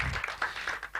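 Audience applause at a radio station studio unveiling, a short burst of scattered clapping.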